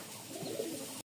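Giribaj pigeons coo softly in a loft, a low murmuring call close by over faint background hiss, then it cuts off.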